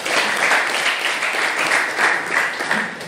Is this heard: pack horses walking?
no